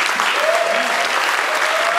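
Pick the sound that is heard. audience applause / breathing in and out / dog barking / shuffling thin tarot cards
audience applause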